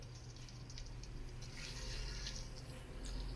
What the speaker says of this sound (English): Next up, we're going to go ahead and put our water in there.